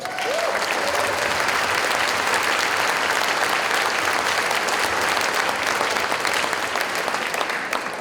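Sustained applause from an audience at the PEN America gala honoring a business visionary, dense and steady clapping filling the whole stretch at even strength, with no voice over it.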